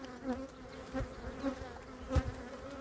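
Honey bees humming inside a hive while two frames are being balanced, a steady mid-pitched drone with a few louder pulses and a light knock near the end.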